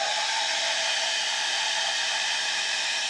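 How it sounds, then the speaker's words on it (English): A hair dryer blows with a steady, loud, unbroken whoosh of airflow from start to finish, with no voices. "And I'll turn the hairdryer on."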